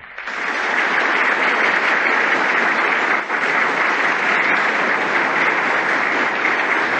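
Steady, loud applause fills a parliament chamber for Durak Bey, with dense clapping holding at an even level for several seconds. No voices rise above it.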